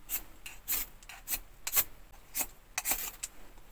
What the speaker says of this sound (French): on vient le frotter contre le fire steel pour faire des étincelles